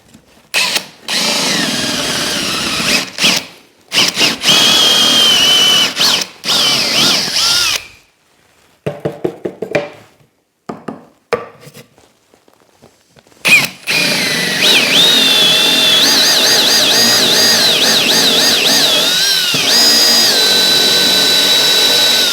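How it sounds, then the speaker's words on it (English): Power drill boring holes through scrap wood while making a plasterer's hawk, loud close bursts of whining drilling separated by short pauses, then a long continuous run toward the end. "Let's drill those out."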